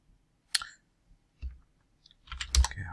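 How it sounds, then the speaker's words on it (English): Computer keyboard keys clicked during Python Flask coding, heard as a few sparse, fairly close taps with short pauses between them, alone with no talk. "Typing."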